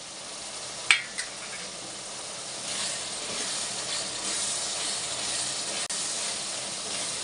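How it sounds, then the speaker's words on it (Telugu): Okra fries in a clay pot with a steady, close sizzling hiss, opening with a couple of sharp pops and crackles as pieces drop into the hot oil, then a constant bright sizzle with a brief snap later. "వేగించుకుందామండి ఇందులోనే బెండకాయలు కూడా వేసేసుకుందామండి"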